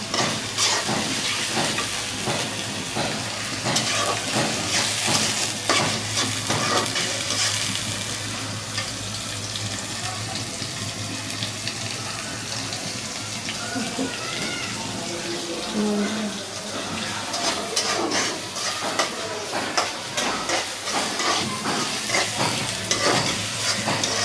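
Onions sizzling steadily in hot oil in a pan while a spoon scrapes and stirs them, a close, continuous crackle with rhythmic stirring scrapes, and a faint voice briefly under it.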